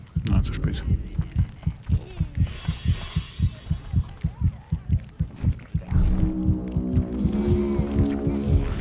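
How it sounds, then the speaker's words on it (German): A steady, thudding heartbeat from the video game Overlord pulses loud and evenly throughout, with a low droning hum rising under it toward the end. "Dieser Herzschlag, der klingt schon so."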